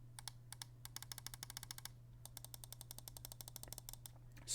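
Side buttons on a Vaxee Zygen NP-01s esports mouse, clicked in rapid close-up bursts of sharp ticks with a short pause midway, heard alone over a faint electrical hum.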